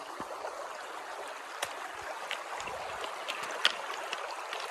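A rocky stream on the Appalachian Trail in southern Virginia rushes and trickles steadily as hikers wade across, with faint splashes and clicks of footsteps on stones close by, and no talking.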